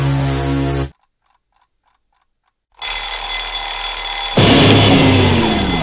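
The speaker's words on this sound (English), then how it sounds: "Alarm clock." An alarm clock rings in loud, harsh bursts: a sharp ringing that cuts off into near silence with faint ticks, then resumes strongly, growing louder and more piercing toward the end.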